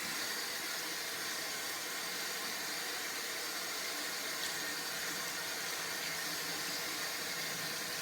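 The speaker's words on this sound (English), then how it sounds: "I'm gonna wet my face and get lathering." Water runs steadily from a tap as a face is wetted before shaving, a constant close hiss with no talk over it.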